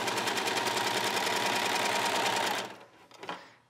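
A serger sewing machine gathers tulle fabric, running fast and steady with a dense, loud whirring chatter for over two seconds, then stopping abruptly with a few faint clicks afterward.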